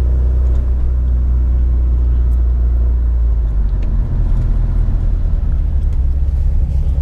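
Subaru STI with a loud exhaust rumbling up close, a heavy steady low drone that eases slightly partway through, continuous with no talking.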